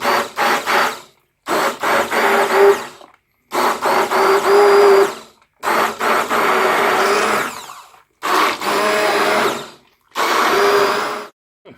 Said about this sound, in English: so now the blender.